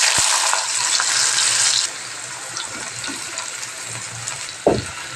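Potato pieces go into hot oil over tempered spices in a pan. A bright, loud sizzle drops to a softer steady hiss partway through, and a short scraping stir comes near the end.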